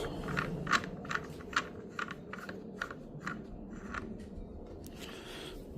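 A bar end weight is removed from a 2024 Yamaha MT-07 handlebar, producing a close run of evenly spaced metallic ratcheting clicks that slow and thin out toward the end.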